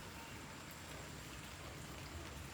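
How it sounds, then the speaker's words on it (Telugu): Rain falls at night during a power cut with lightning about, heard as a faint, steady, even hiss with no talking. "వాన పడుతుంది"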